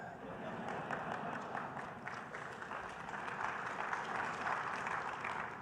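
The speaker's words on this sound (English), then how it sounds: "Yeah, you applaud." Audience applause during a keynote at a wireless industry conference, a steady, even wash of clapping from a sizable crowd, moderately loud and slightly distant, continuing without speech.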